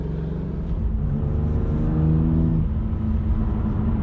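A BMW M2 Competition driven on an open road: steady, loud engine drone heard from inside the car, with the pitch rising slightly as it accelerates, then holding a smooth cruising hum with no talking.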